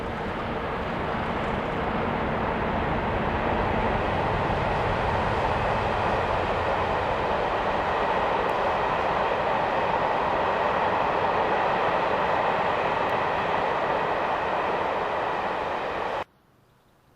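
A pair of Class 50 diesel locomotives crossing St Pinnock Viaduct on the way to Penzance, a loud, sustained roar of engines and rolling wheels filling the scene steadily before cutting off abruptly.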